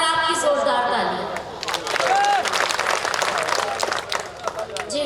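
Audience applause and cheering at a mushaira, an Urdu and Hindi poetry recital, swelling into sustained clapping from a large crowd with scattered shouts of approval and a low murmur running throughout.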